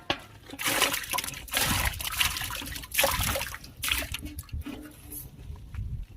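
Prawns being rinsed in water by hand, steady sloshing and trickling with splashy bursts, close and moderately loud, no talk over it.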